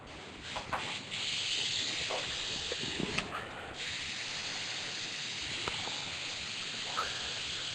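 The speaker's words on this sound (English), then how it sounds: "so now we're going to clean out our airbrush" An airbrush being flushed clean gives a steady, close hiss of spraying air that runs without a break, broken now and then by small sputters and knocks.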